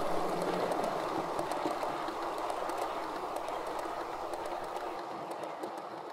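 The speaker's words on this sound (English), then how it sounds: "in this case painted by Jeff Haynes, and the train a mixture of modified Hornby and Backman cars, weathered by Tim Shackleton." A model train hauled by a Pacific locomotive with modified Hornby and Bachmann cars runs steadily past on a layout, a continuous rumbling whir with a light repeating clickety-clack of wheels, fairly close and even.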